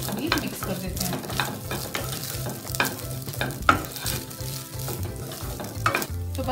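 Egg fried rice with chicken masala powder being stirred in a pan, a steady run of scraping and clinking spatula strokes over a low sizzle, close and fairly loud, with no talking.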